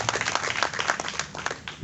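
A live audience at the final of a public-speaking contest in Natitingou applauds in a brief burst of dense, crackling clapping that swells and tapers over about two seconds.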